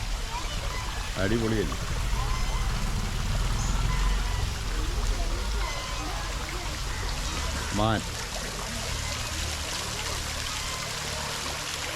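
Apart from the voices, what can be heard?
water flowing down a small waterfall stream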